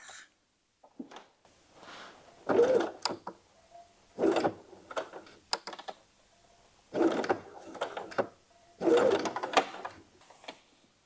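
A sewing machine topstitching around a blouse collar at a lengthened 3 mm stitch, running in several short separate bursts with quiet gaps between them, close by.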